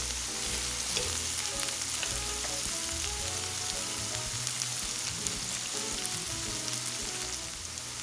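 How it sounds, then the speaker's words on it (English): Onions sizzling steadily in a pan, softening before sweet frozen corn goes in for a vegan rice bowl; a dense, continuous crackling fry heard up close with no voices over it. "We're gonna cook our onions for about 2 minutes,"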